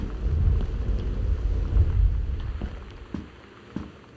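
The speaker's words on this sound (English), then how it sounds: "This storm's really kicking up." A thunderstorm in the video game Gone Home rumbles low with heavy wind and rain, swelling and fading, with a few sharp cracks toward the end.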